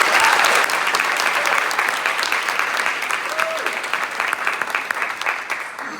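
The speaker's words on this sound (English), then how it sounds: "Please give our boys a round of applause for bringing home the state runner-up trophy." Sustained clapping from a crowd at a school fall sports assembly, loudest at the start and holding as a dense, even patter for six seconds before slowly easing.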